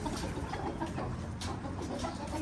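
Several chickens clucking and murmuring together at close range, a busy, continuous flock chatter.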